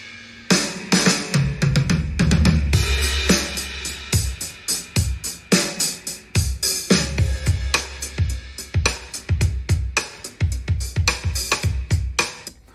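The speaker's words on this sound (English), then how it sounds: "So what I've got here is the dry drum track." A dry, unprocessed drum bus with all drums mixed together plays a punchy groove of thumping kicks and crisp snare and hat hits in a steady rhythm, with no other instruments.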